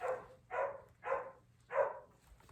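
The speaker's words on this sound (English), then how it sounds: "Our dogs are barking." Dogs bark four times in an even, moderately loud rhythm, each bark muffled and round, with no talk over them.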